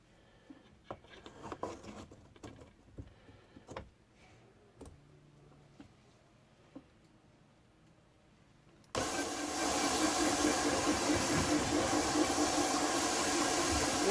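A machine polishes a vintage German swirl marble with 400 grit, starting after some faint handling knocks and running as a steady, loud whirring hum for the last five seconds.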